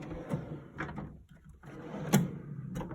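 A Husky metal toolbox drawer slides open and shut twice, each a rolling metallic rumble ending in a short clunk, close and fairly loud in a quiet room.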